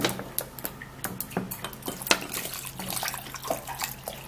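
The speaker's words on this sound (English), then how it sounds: "We're gonna put in water" Water poured into a cooking pot for boiling, a steady splashing rush with clinks of the pot, close and continuous without talk.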